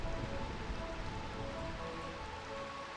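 Steady rain falling in Burmecia, the rain-soaked city in the video game Final Fantasy IX Remaster, a continuous even hiss of droplets without pauses, faint and alone.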